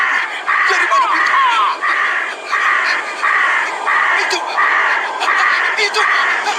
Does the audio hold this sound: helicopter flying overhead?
no